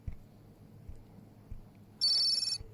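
A telephone gives a brief electronic ring, a bright warbling burst lasting about half a second. It rises over a quiet room where soft, low thumps are heard before it.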